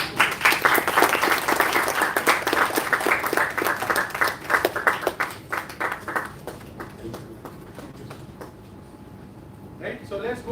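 Applause from an audience at an innovators summit in a hall, dense steady clapping that swells for several seconds, then thins and fades, with a short burst of renewed clapping at the end.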